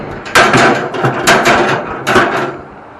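Metal grill grates being lifted out of a Pit Boss 1150 Pro Series II pellet grill, with three loud clanking, scraping bursts close by, no talking.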